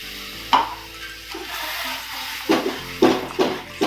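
Mustard paste fries in a pan, low bubbling under several sharp stirring scrapes and knocks, close and fairly quiet.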